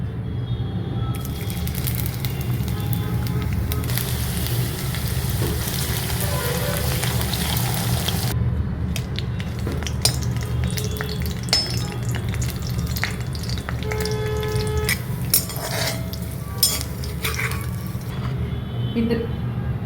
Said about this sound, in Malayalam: ആദ്യം ഞാൻ അനിയനാണ് ഫ്രൈ ചെയ്യുന്നത്, അതായത് ഗോൾഡൻ ബ്രൗൺ കളർ വരെ, പിന്നെ പൊട്ടറ്റോ, പിന്നെ ഗ്രീൻ ചില്ലി